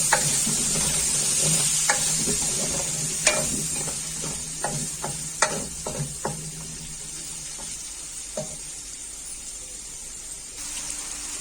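Potatoes fry in oil in a pan for an Arvi masala dish, giving a soft continuous sizzle broken by scattered clicks and stirring knocks, close by and with no talk.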